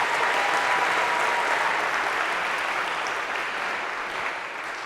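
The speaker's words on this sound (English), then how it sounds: "A round of applause here if we could," Audience applause in a Harvard lecture hall during an introductory computer science class, a sustained, dense clatter of clapping that stays strong and tapers slightly toward the end, with no talking.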